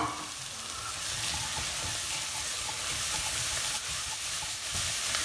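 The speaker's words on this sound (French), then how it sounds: "On rajoute nos poivrons coupés fins. Allez. Et on mélange bien." Thinly sliced bell peppers sizzle loudly in a hot pan for chili con carne while being stirred, a steady close crackle and hiss with scraping of the stirring utensil and no speech.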